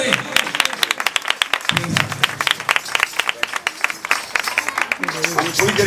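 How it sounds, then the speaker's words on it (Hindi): An audience at a Pentecost church service applauds to welcome a guest speaker, dense loud clapping throughout with a voice speaking over it. "सब इनके लिए ताली बजाएं और इन्हें वेलकम करें।"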